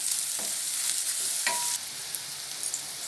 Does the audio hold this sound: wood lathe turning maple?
no